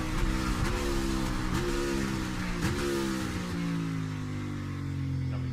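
Onboard a race car at the Mexico City circuit, the engine roars loudly and continuously while braking into turn 1, with rapid downshift blips stepping the pitch down before settling into a lower, steady drone.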